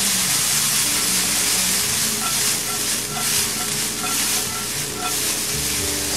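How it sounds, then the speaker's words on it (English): Diced shallots sizzle steadily in a hot pan as a broth is started, a dense continuous frying hiss with faint clinks and stirring underneath, close and even throughout. "We're gonna let these shallots cook for about a minute, just to get their flavor in there."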